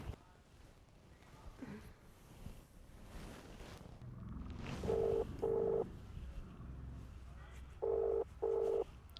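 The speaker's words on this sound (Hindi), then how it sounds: "मैंने फ़ोन किया तमन्ना की मॉम को फॉर साउंड हीलिंग।" Four electronic telephone ringback or dialing tones, paired with short gaps between them, sound over a low rumbling background and faint voices.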